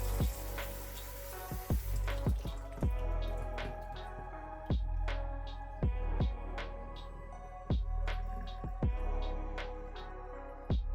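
Water drips and splashes into a newly installed sink drain, a steady wet trickle broken by repeated sharp, close drops and plops at an uneven rhythm, with no talking.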